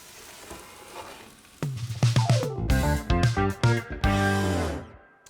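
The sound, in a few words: steak and veggies sizzling while cooking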